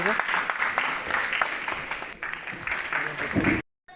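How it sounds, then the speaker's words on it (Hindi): Loud applause from an audience at a youth awareness camp in Jammu and Kashmir, a dense wash of clapping with voices mixed in, then an abrupt cut to silence just before the end. "जोरदार तालियां"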